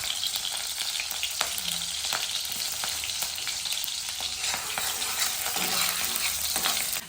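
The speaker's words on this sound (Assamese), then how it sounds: "মিঠা তেলটো গৰম হ'বলৈ দিছো পিয়াজ দিলো পিয়াজ জলকীয়া ইয়াতে দি দিব" Onion and green chillies sizzle in hot mustard oil, a dense, steady frying hiss close by with occasional stirring scrapes, heard alone without talk.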